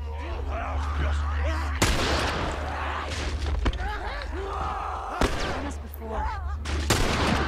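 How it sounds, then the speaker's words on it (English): Rifle shots ring out in The Last of Us video game, several loud, sharp cracks spaced a couple of seconds apart over a low game ambience, with character voices in between. "I should just use the rifle."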